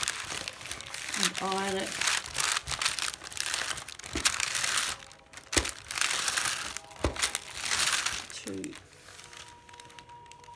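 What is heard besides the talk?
crinkling aluminium foil being laid over webbing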